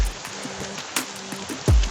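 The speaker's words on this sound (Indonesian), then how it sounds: "saat ini masih terjadi rintik hujan, gerimis" Light drizzle in a forest, scattered soft raindrop ticks and patters on leaves and ground, close and irregular, with a few sharper drops and a brief thud near the end.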